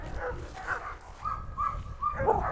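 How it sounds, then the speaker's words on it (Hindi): A dog on a farm with sheep, a Karabash or Cane Corso, giving faint, short yips and whimpering barks in a few quick bursts, heard at a distance against a steady outdoor background. "एरिस भौंक रहा है।"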